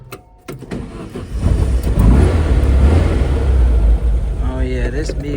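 Toyota Estima camper at a Japanese auction cranking and firing up, a brief starter whir followed by a loud, steady engine rumble that settles into idle, close by, with a voice talking over it near the end.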